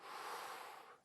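A single deep, airy inhalation close to the ear, softly swelling and then tapering off over about a second.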